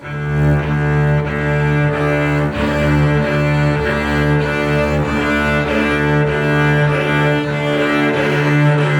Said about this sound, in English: pretty much the only other option is to slide the bow around